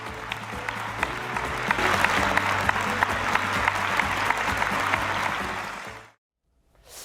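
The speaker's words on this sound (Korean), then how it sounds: "여러분 큰 박수로 마이크 펜스 부통령을 모셔주시면 좋겠습니다" Steady applause from a large audience welcoming former US Vice President Mike Pence, with a few sharper claps standing out, lasting several seconds before cutting off abruptly.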